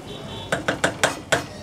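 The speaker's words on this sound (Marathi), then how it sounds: "झाकण काढते मी" Series of five sharp metallic clinks as a lid is lifted off a cooking pot of drumstick and potato curry, close and fairly loud against a quiet kitchen background.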